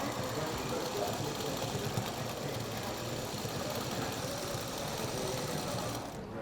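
A sewing machine darning worn clothing in a cross pattern, running as a continuous, fast mechanical whir and rapid stitching rattle, close and steady, stopping just at the end.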